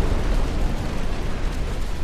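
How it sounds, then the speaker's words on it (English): Torpedo hit exploding against a battleship in the naval game Ultimate Admiral: Dreadnoughts, a loud sustained booming blast with rumbling low-end that rolls on for the whole two seconds, with no voices. "How did we get a torpedo hit?"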